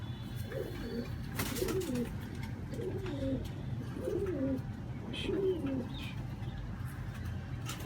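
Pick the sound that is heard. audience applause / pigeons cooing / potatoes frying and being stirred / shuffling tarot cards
pigeons cooing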